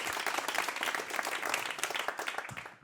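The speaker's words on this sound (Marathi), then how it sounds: "प्राचीसाठी खरंच जोरदार टाळ्या होऊन जाऊ देत." A hall audience breaks into dense, continuous applause for a college-group winner of a Marathi-language speaking contest, many hands clapping together in a steady rushing wash.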